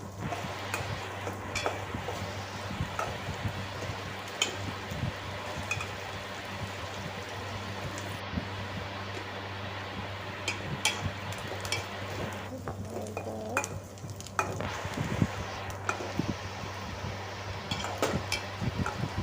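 Bitter gourd pieces fried in a pan and stirred, a continuous close sizzle with frequent scraping and clacking of the spoon against the pan and a low steady hum underneath.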